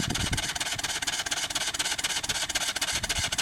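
A Briggs & Stratton 3hp engine converted to run on steam or compressed air, revved up, giving a fast, steady, rasping chuff that stays loud and even throughout, with no talking.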